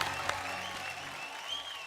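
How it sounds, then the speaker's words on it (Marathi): Audience applause for a performer named Madhuri at a televised dance show, moderately loud steady clapping with a faint sustained musical tone underneath. "माधुरीसाठी पुन्हा एकदा जोरदार टाळ्या होऊन जाऊ द्या"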